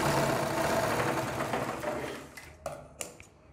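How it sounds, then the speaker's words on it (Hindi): A sewing machine stitches strips of kurti fabric with a steady, close mechanical whir that fades toward the end, followed by a few sharp clicks and knocks. "यहाँ पर हम पहले इसे बराबर से मिला के इसे सिलाई लगा लेंगे इस तरीके से"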